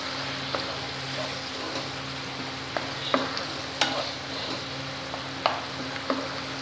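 Mustard fish curry with split chillies simmers in a pan, making a steady sizzling bubble broken by occasional sharp clinks and taps of a utensil against the pan.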